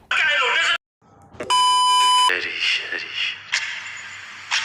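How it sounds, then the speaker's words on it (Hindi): A censor beep in the trailer for the film Daldal: one steady, bright electronic tone of just under a second, covering a swear word between bursts of loud trailer dialogue and sound effects. "मैं बीप लगा रहा हूँ गाली के ऊपर"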